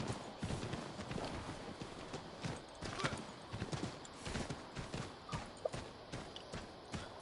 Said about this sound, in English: Yeah, I think definitely riding the horse.